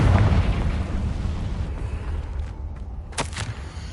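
The Confringo explosion spell in the video game Hogwarts Legacy, a loud rumbling blast that fades slowly, followed by a brief sharp crack.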